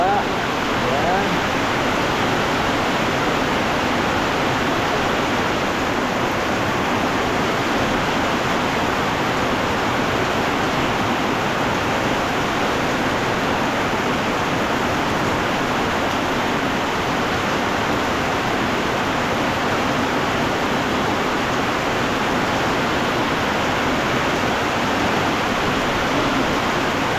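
Very heavy rain and rushing floodwater on a farm, a loud, unbroken roar of dense downpour and flowing water that holds steady throughout.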